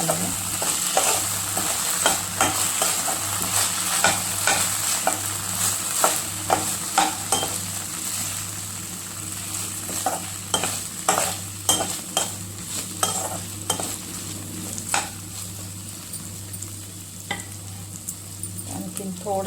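Chicken with red chili sauce is stirred in a pan, a continuous loud sizzle with rhythmic spatula scrapes and clicks under a low steady hum.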